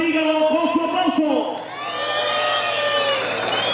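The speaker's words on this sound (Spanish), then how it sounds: "Si usted quiere que Duende de Jalisco pase a la gran final, dígalo con su aplauso." A crowd at a 2016 final competition at Rancho La Mision in Zirimbo, Michoacán, Mexico, whoops and cheers after an announcer's amplified voice, then the loud cheering hangs on with high shouts.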